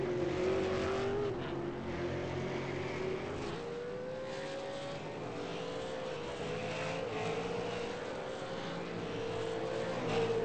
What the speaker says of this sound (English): I was just looking at how many cars are on track.